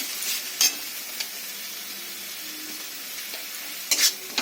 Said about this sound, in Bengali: টমেটোটাও দিয়ে দিলাম একসাথে। মশলাটা ভালো করে কষে নেব।